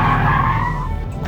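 Tires skid hard as a car spins out mid-drift, a loud, close squeal lasting about a second over engine rumble before trailing off.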